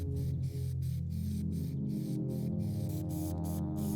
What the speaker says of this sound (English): Spray paint is what I use to create a nice effect.